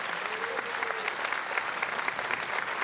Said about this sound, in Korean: 대통령께 큰 박수 환호를 보내주시기 하고 바랍니다